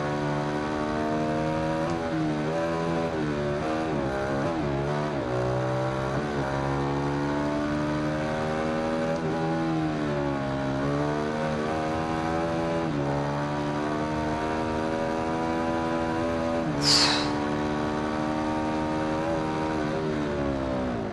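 Ducati Hypermotard 821 SP 2015 motorcycle in the Ride 2 racing game, its engine revving up and down through short gears in repeated rising and falling sweeps, steady and loud, with a brief sharp burst late on.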